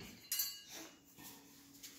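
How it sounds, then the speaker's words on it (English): A knife picked out from among metal cutlery, making a few faint, brief clinks and rattles in a quiet kitchen. "I'm going to grab a knife to cut this in half."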